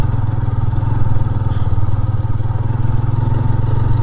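A motorcycle holds third gear on a rough dirt track scattered with gravel and small stones, its engine giving a loud, steady, throbbing drone heard close up, with faint clatter over the top.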